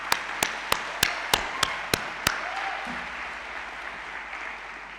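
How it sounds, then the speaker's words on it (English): Graduating doctors at the Medical University of Lodz give a round of applause, heard as a run of about eight sharp, evenly spaced claps that fade into room noise, with a faint voice near the end. "Let's give ourselves a round of applause."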